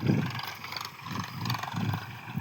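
Farm tractor engine running in a field, a close, loud low rumble with rhythmic surging pulses roughly every half second, no talk over it.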